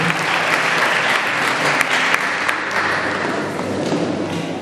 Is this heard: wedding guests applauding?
yes